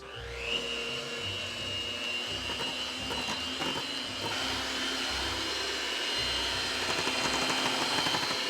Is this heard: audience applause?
no